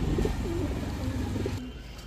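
Red Indian Bombai pigeons coo in low, repeated throaty phrases, close by and steady throughout, with no talking.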